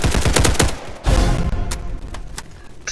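Video game gunfire rattles in rapid bursts, a loud volley of close shots over the first second and another burst just after, then scattered single cracks trailing off.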